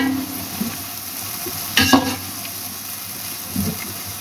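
Onions frying in oil until golden brown for beef biryani, a steady soft sizzle with occasional stirring scrapes, close and quiet.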